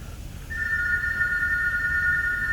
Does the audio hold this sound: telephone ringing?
yes